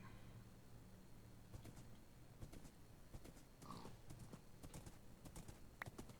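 Horse hooves clip-clopping in Minecraft, a quiet irregular series of soft clops over a faint background, with a brief chirp-like game sound in the middle.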